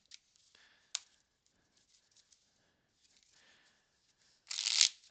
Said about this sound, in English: let's shuffle these in. All right, that was the first shuffle of this deck.